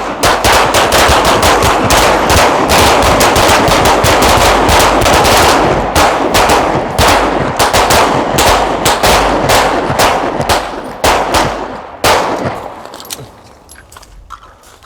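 Rapid pistol gunfire at a tactical pistol shooting course in Dover, Tennessee, loud and dense for about twelve seconds with overlapping shots, then thinning to a few scattered reports as firing tapers off.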